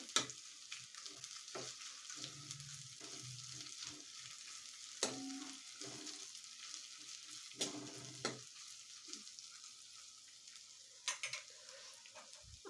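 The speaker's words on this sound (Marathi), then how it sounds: "इथे मी अर्धा चमचा आलं लसूण पेस्ट घालते तर ही आलं लसूणची पेस्ट व्यवस्थित परतून घ्यायची आहे" Ginger garlic paste sautéing with golden fried onions for dhaba-style paneer Kolhapuri, a steady sizzle broken by repeated scraping stirs of a spoon in the pan, close and fairly quiet, with no talking.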